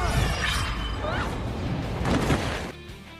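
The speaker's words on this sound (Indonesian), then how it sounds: "hingga akhirnya kail dari Maui hancur akibat serangan Tekka" Maui's magic fishhook shatters in the animated film Moana, a dense crashing break with scattered debris and whooshing, loud and full over a rumbling film score before cutting to near silence at the end.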